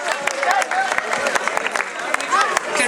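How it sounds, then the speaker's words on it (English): A crowd at a village festival claps together in brief, steady applause for the festival partners, with voices chattering underneath. "Could I ask everyone to give a round of applause to our partners"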